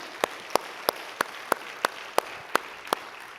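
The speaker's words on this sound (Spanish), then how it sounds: "Dale un fuerte aplauso a Él." Church congregation clapping during a sermon, heard as a steady, evenly spaced series of sharp single claps, about three per second, over quiet room noise with no talking.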